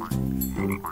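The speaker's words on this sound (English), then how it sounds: "it's a frog" A deep, resonant croak in two quick pulses, from a frog in a children's program, close and fairly loud with no talk.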